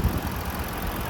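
Steady running drone of the 3.7 engine in a 2017 Ford Explorer Police Interceptor, close and continuous over a brief stretch with no voices.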